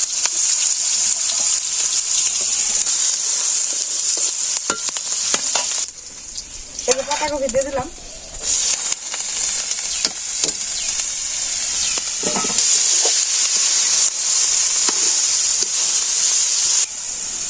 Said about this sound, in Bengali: তেল দিয়ে দিচ্ছি তেল গরম হয়েছিল আমি পেঁয়াজ দিয়ে দিলাম মরিচ